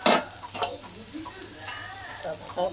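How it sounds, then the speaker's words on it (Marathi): Potato puris frying in hot oil, a steady sizzle with a few louder stirring clatters near the start and end, faint voice sounds in the background. "मी अशाच पटापटा सगळं तळून घेते."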